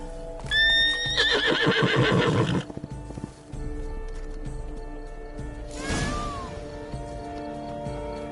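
In The Witcher 3 video game, a horse gives a loud, quivering neigh, followed by a second whinny a few seconds later over quiet background ambience, with no talk.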